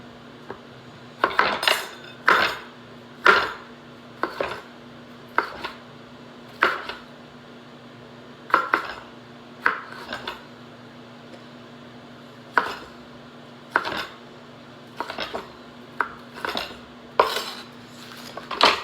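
A knife chops ingredients on a cutting board in a steady run of crisp, close taps, each followed by a brief clink; no talking.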